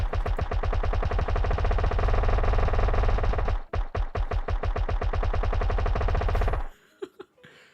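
An overclocked tower in the Towercraft video game fires about 20 bullets a second, a loud, dense, rapid machine-gun stream that breaks briefly partway through, resumes, then stops abruptly, leaving a few faint pops.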